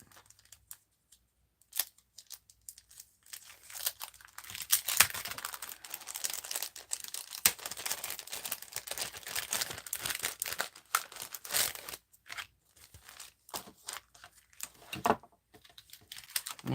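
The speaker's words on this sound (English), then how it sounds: "now we have the dies for them, so let's die cut them out" Paper card shapes run through a die-cutting machine, with scattered crinkling, ticking and rustling bursts near the mic amid quiet gaps, and no talking.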